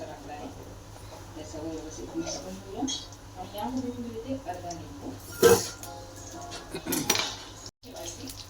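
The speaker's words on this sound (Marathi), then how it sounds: "आपलं वांगे चांगले तेलामध्ये परतून देऊ सगळ्या साईडने" Eggplant turns in hot oil in a pan, with metal utensil clinks and scrapes against the cookware and a couple of louder clatters, while someone talks over the cooking.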